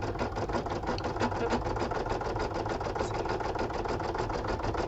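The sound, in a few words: embroidery machine stitching a Valentine card design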